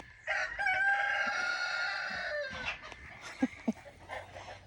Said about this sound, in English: I have dueling roosters over here.